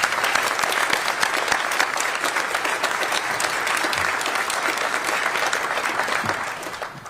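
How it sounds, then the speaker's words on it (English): A crowd at a press conference announcing a new college football head coach applauds student athletes, sustained dense clapping that holds steady for about seven seconds before tapering slightly at the end. "Let's give those kids a round of applause, please."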